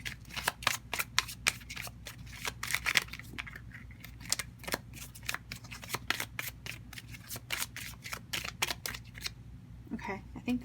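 Tarot cards are shuffled by hand in a rapid run of crisp riffling snaps close up, steady for about ten seconds with a brief soft shuffle at the end.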